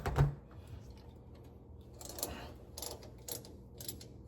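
A Craftsman ratchet wrench turns a bolt on the hydraulic pump of a C50 dump truck, giving bursts of clicking. Quiet stretches sit between the bursts, and there is a thump near the start.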